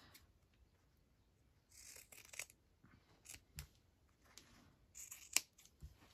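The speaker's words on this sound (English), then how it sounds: "I better get my better scissors." Scissors snipping and trimming fabric, a series of short, close crisp cuts in irregular bursts separated by quiet pauses.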